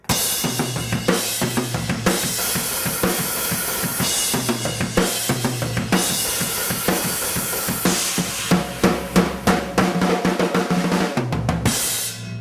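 A drum kit plays a section of a song, loud and close, with a driving kick-and-snare beat, crashing cymbals and rapid fills toward the end.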